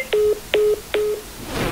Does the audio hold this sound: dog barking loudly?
no